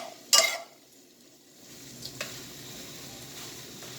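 Vegetables and onions sizzle steadily in a hot pan after one sharp clatter as they are tossed, with a soft frying hiss continuing underneath and faint scrapes later.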